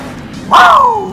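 Grave Digger Ice monster truck in the Monster Jam Steel Titans video game, a single loud engine roar that bursts in and sweeps downward in pitch as it passes.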